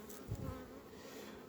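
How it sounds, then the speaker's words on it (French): Honeybees buzzing around open beehive colonies during late-July preparation for overwintering, a steady low drone with a few louder passes close by near the start, no talk. "Alors, faut regarder les abeilles."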